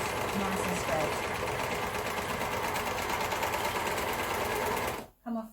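An overlocker stitches steadily along a fabric edge, its fast needle and blade chatter running loud and even before stopping abruptly near the end, with a brief burst after.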